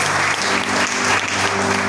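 Church congregation gives a strong, dense burst of applause, steady and close throughout the short moment, with a faint sustained musical tone beneath.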